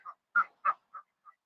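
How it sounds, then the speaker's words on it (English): Muscovy ducks on a homestead near a creek give five short, soft, breathy calls in quick succession, close by and quiet, with no talking. "I got the ducks right here."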